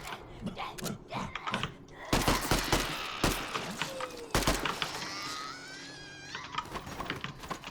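Gunfire and explosions from the video game Zelter: dense bursts of shots with several heavy blasts and crackling debris, loud and busy throughout, with a few brief tonal game effects mixed in.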